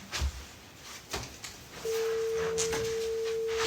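A phone call rings out unanswered: a steady electronic calling tone drones on after a few soft knocks and handling sounds, fairly quiet and alone.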